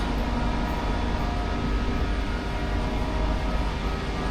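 A Doha Metro Red Line train at an elevated station gives a steady, loud low rumble and hum that stays constant throughout, with no voices over it.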